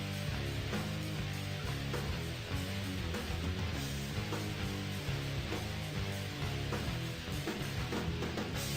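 Final boss theme music from the Bloons video game plays loud and dense, with a driving rhythmic beat and heavy layered instruments throughout, no voices.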